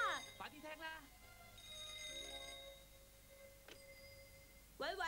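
An old telephone rings in a 1991 Cantonese Doraemon cartoon, a bright electronic trill with a fainter repeat, heard between lines of talk.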